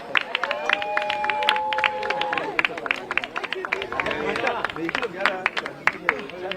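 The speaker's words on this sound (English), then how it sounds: "be so kind and give them a round of applause" Spectators at a polo awards podium clap in scattered, sharp bursts, mixed with crowd chatter and someone talking over the applause.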